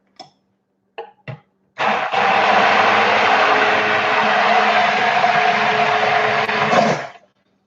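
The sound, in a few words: immersion blender running in water to clean it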